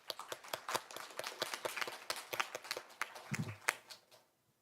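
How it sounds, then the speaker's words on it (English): Scattered, faint applause from a symposium audience welcoming the moderator and speakers, brisk claps tapering off and dying away into silence. "Please welcome our moderator and speakers with a round of applause."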